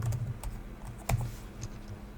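Computer keyboard typing while naming a new virtual machine during a VirtualBox 7.1 setup on Windows 10: a few sparse, close keystroke clicks with one slightly louder tap near the middle, alone over quiet room tone.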